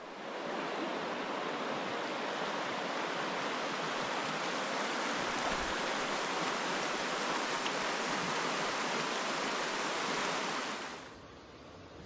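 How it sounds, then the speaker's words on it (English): Borden Creek flowing through Clifty Canyon in Alabama's Sipsey Wilderness, a steady broadband rush of water heard close for most of the stretch before it cuts away near the end. "Beautiful Borden Creek."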